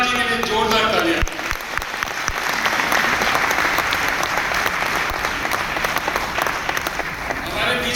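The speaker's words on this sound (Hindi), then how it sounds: "सिद्धार्थ जी के लिए जोरदार तालियां।" Sustained applause from an audience at a company's 25th anniversary program, dense and steady throughout, with a voice faintly over the clapping at the start.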